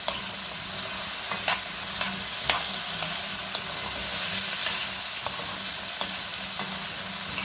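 Kofta frying in a pan, a steady close sizzle of hot oil broken by light scraping and clicking from stirring, with no voices.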